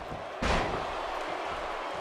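A punch lands in a WWE 2K18 video game wrestling match between Maryse and Summer Rae as a sharp, heavy thud over a steady roar of arena crowd noise.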